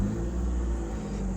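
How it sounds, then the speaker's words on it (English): A Scion car engine starts and settles into a steady low idle with its exhaust cutout closed, giving a deep, fairly muffled rumble heard up close. "So here's a startup with the cutout closed."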